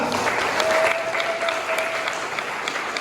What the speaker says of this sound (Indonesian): Tepuk tangan buat Ibu Dwi Kurniawati dari SS12.